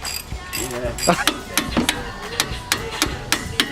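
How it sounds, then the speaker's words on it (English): A ratchet wrench clicks rapidly in short bursts loosening coilover bolts on a Subaru WRX, sharp metallic ticks close up, with a voice talking briefly at the start. "So crack them loose, then hit it with the ratchet."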